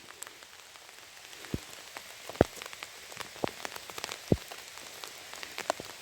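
Heavy rain pours steadily outdoors during berry and mushroom picking, a dense hiss with sharp individual drops and plinks popping through, close and continuous with no talk.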